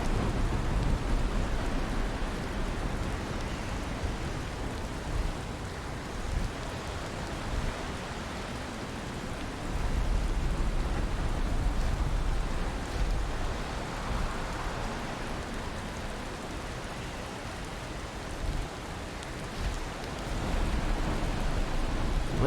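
Steady rain falling in Valheim, a dense, continuous wash of drops with a low rumble beneath, loud and unbroken with no talking.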